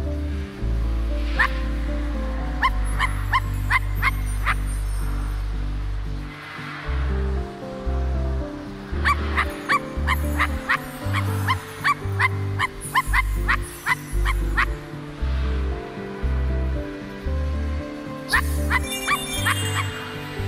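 Dog barks in the video game I Am Dead, a series of short, fairly close yips and woofs set over a steady ambient wash like ocean surf.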